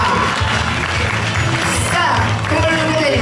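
Crowd applause at an anime-song dance competition, continuous loud clapping blended with crowd voices and talk, steady from start to finish.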